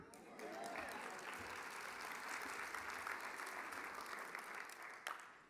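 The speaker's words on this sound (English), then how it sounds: "I put that in just to make sure I got some applause" Applause from an audience during a State of the Schools speech, a sustained, fairly distant wash of clapping that swells and carries on for about five seconds before tapering at the end.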